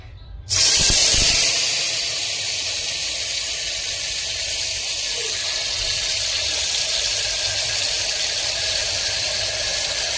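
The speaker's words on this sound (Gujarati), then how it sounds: "ચાલો હવે આ ગ્રેવીને આપણે નાખી દઈએ." Ground gravy for aloo palak poured into a hot pressure cooker bursts into a loud hiss and sizzle that holds steady and strong to the end.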